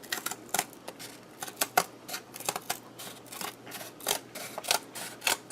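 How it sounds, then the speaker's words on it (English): Scissors make a quick series of crisp snips and crunches while cutting through playing cards, close and fairly quiet, with irregular gaps between cuts and no talking. "I'm telling you, these scissors are awesome."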